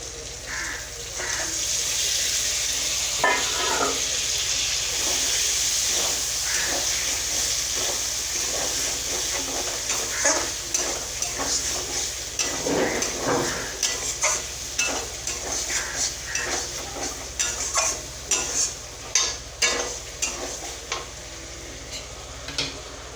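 Pointed gourd tossed into a spice masala cooked with nuts and ginger, frying with a continuous close hiss and sizzle, then a run of rhythmic spoon scrapes and stirs against the pan toward the end.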